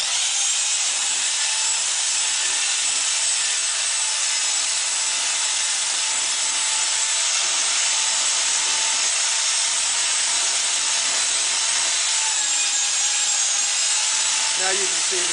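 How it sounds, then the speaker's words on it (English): Thick, hot pipe coating mix is churned steadily, the drier top layer pushed back down into the batch, giving a continuous gritty rubbing and scraping wash that stays loud and even throughout. "BJ is pushing the drier part that's up on top back down into the coating so that way it can be stirred evenly with the rest of it."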